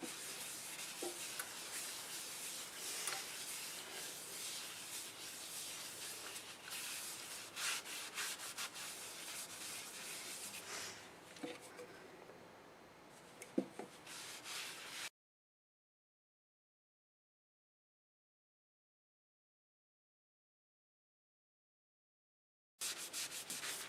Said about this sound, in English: I decided to go ahead and put some sanding sealer on this side at least